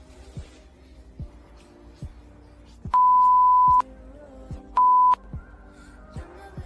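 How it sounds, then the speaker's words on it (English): Two steady censor beeps, the first about a second long and the second shorter, cut in over quiet background music with soft percussive ticks. "Please, put a beep in those words that I mentioned"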